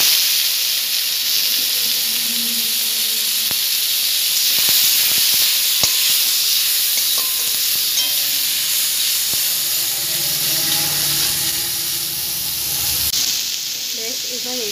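Hog plums dropped into hot mustard oil already crackling with mustard seeds, sizzling and hissing loudly and steadily close by, with scattered pops and spatters, for a sour Bengali dish.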